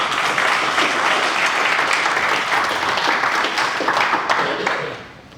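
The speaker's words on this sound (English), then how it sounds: "it is your cue for a big applause" An audience at a live magic show claps loudly and steadily for several seconds, then the applause trails off quickly at the end.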